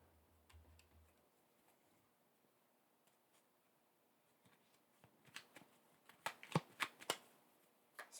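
Tarot cards being shuffled, faint soft rustling early on, then a run of sharp close clicks and riffling snaps near the end, with no talk.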